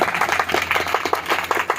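A church congregation claps loudly together, a dense burst of applause that stays steady through the short moment, with no talking over it.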